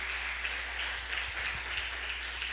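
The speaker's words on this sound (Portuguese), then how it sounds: "Bata palmas ao Senhor Jesus." A church congregation claps for Jesus, a steady wash of many hands heard from within the room, moderately loud and continuous with no voices over it.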